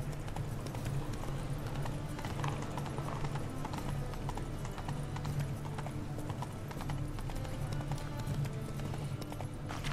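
Roach, the horse in the video game The Witcher 3, galloping with a rapid, continuous clip-clop of hooves over a dense ambient game soundscape that stays steady throughout.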